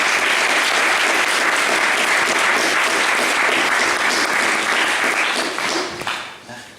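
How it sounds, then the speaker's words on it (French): A conference audience gives sustained, dense applause to welcome a guest speaker at a lecture on jurists and cases of torture; the clapping stays loud and steady, then thins and fades out at the end. "nous allons applaudir notre invité en guise d'accueil"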